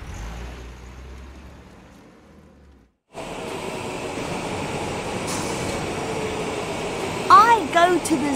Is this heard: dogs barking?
no